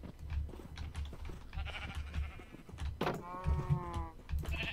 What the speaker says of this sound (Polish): Jaka zawzięta owca.